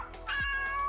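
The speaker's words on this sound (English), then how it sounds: "my cat Kygo and my dog Rhea has something to say." A pet cat lets out one close, clear meow lasting under a second, heard alone.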